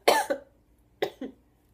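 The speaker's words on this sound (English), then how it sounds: "I have a cough." Two short bursts of coughing from a single person, each a sharp hack followed by a smaller second cough, close to the mic with a pause between them.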